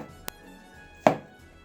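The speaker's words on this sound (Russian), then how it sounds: "2 средних свеклы режем кубиками." A knife dicing medium beets on a cutting board gives two separate chopping thunks, the second one louder, with quiet pauses around them.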